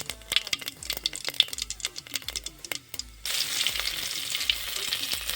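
Mustard seeds crackle and pop in hot oil for tempering, with rapid sharp spits and rattles close by, then the sizzle swells into a steady loud hiss partway through.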